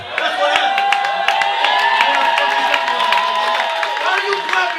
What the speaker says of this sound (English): Why are you clapping for him?